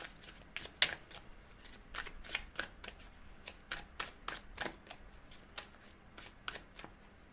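Tarot cards being shuffled for a reading, a quick series of crisp riffling bursts and soft slaps with short pauses between them, close and clear against a quiet room.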